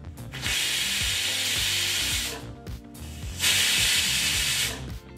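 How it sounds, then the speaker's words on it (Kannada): A pressure cooker cooking masala rice bath lets out two long, loud hissing whistle blasts separated by a brief pause, with no talking. "ಈಗಿಲ್ಲಿ ಕುಕ್ಕರ್ 2 ವಿಸಲ್ ಬಂದಾಯಿತು"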